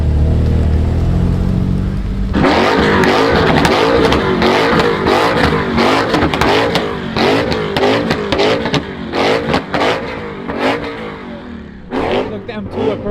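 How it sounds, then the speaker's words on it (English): A car doing burnouts at a car meet: the engine revs hard and repeatedly in loud, pulsing bursts with tire squeal and crowd noise, and people talk and shout over it. "Hey, I'm doing burnouts and everything."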